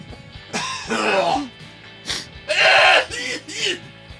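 A voice imitates a harsh, raspy cough in a few throaty bursts, loud and close, separated by short pauses.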